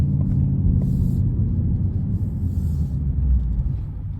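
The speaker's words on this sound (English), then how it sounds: "I like the Mustang sound better actually. You know, it has more rumble." A 2022 Ford Mustang Mach 1 on the move gives a steady, deep engine rumble with a dense low drone and road noise, loud and continuous the whole time, with no talk over it.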